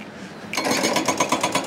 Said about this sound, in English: construction is everywhere in Las Vegas.